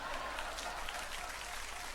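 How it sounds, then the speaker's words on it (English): A short, evenly coordinated round of audience applause in an animation, heard as a soft, steady wash of clapping lasting about two seconds. "A short round of surprisingly well-coordinated applause followed my oration"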